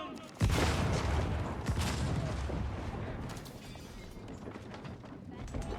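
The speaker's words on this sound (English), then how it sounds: "great bombards firing away, and they're shooting at the trees here now" Great bombards fire in the Age of Empires 4 video game: a heavy boom, a second blast shortly after, then rumbling, crackling battle noise, with a voice talking over it.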